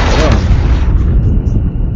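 Shotgun fire in a shooter video game hardpoint match, a loud booming blast at the start that decays into rumbling noise, with a voice talking underneath.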